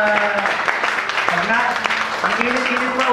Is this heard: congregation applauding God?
yes